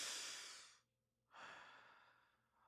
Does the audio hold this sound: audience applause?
no